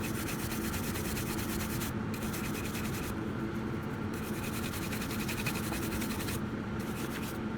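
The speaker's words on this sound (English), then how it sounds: "we'll just give it a buff with a nice clean soft brush and take the excess off" A soft brush buffs a polished ammonite fossil to take off excess polish, making a continuous close brushing rasp in fast back-and-forth strokes with a few brief pauses, no voices.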